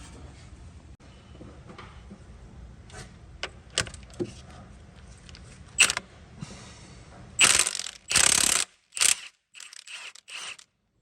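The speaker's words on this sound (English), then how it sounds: "with a 30mm socket you should be able to remove the nut" A powerful impact gun with a 30mm socket works loose a nut on a Volvo 2.4 D5 engine, giving several loud, close bursts of rattling hammering with quiet gaps between them after softer clicks and clatter.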